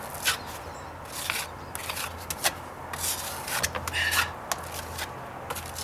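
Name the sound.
wiping the edge of deck stair wood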